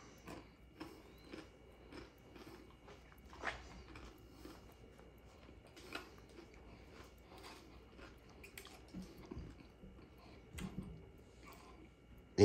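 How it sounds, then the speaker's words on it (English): Someone chews a Paqui One Chip Challenge tortilla chip, with repeated crisp crunching bites in an uneven rhythm. The bites are close but fairly quiet against a near-silent background. "Chew it on up."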